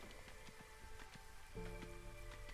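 Light drizzle in the game Against the Storm, a soft, steady patter of raindrops over low tonal game ambience, quiet and continuous with no voices.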